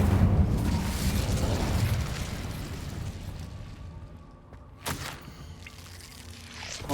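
A fire spell bursts from a wand in Hogwarts Legacy, a loud rumbling whoosh of flame that slowly fades into a low crackle, followed by a sharp pop.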